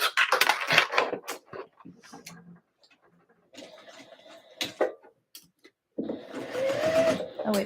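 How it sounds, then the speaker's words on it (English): A sewing machine stitching dress skirts runs in short bursts of rapid mechanical whirring, with quiet pauses between runs and a longer steady run at the end. "Now we get to start sewing these up."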